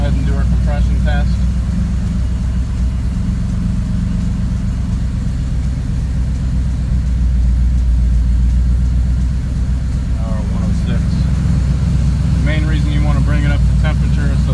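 Engine of the Lightning build running steadily while warming up, a continuous loud low rumble and idle throughout, with faint bursts of talk or noise over it.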